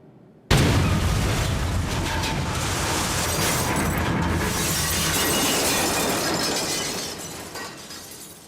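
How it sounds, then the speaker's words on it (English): A car slams into a barrier in a crash test at the Transport Research Lab, a sudden loud impact of crunching metal and shattering glass followed by several seconds of scattering debris and rattling that slowly fades. "They're currently crashing their way through the top-selling vehicles in Europe."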